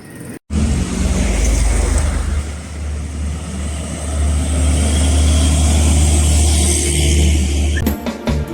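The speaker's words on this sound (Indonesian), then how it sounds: "Sekarang aja sepi, tapi mobil udah lalu lalang." Cars pass along a quiet road, a loud, continuous close engine and tyre roar that swells through the middle and eases toward the end, with a brief handling knock near the start.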